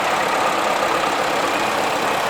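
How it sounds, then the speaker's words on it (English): A four-cylinder Massey Ferguson 35 tractor engine idles at a vintage steam rally, a steady, dense mechanical drone that stays constant and fairly loud throughout with no speech over it. "And then another Massey Ferguson 35,"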